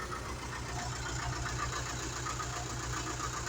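An engine at idle whose revs drop slowly after a delay, with injectors and filters already replaced, holding a steady low rumble with a faint rhythmic knock, close and continuous with no talk.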